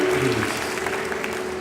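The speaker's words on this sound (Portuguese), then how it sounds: "Vamos dar uma salva de palmas para Gil" Church congregation clapping during a worship service, a short, dense patter of applause heard at moderate volume throughout.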